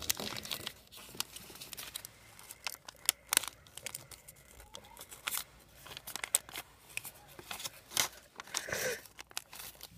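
A sheet of paper being folded and creased into a princess-style label-maker cover, a close, quiet run of crinkles, rustles and sharp creasing scrapes in irregular bursts with no talking.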